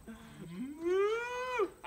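A cow by a cattle trailer lets out a single long, rising moo, close and clear over faint outdoor background.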